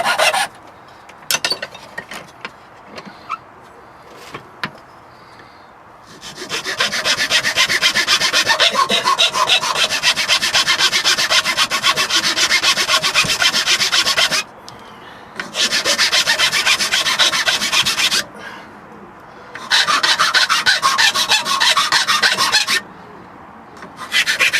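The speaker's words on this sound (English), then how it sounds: "I got one of them, a coarse rat tail file, whatever they call it." Coarse rat tail file rasping on wood while shaping a Bhutanese-style bow, long steady strokes in three extended bursts with short pauses, close and loud with no talking.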